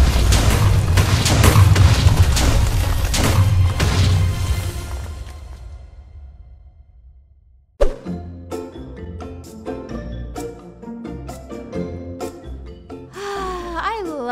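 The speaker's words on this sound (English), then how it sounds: "No, that's the sound of TNT!" TNT blows up in Minecraft with a loud booming blast and a rumbling tail that fades away over several seconds, followed by game music and lighter in-game sounds.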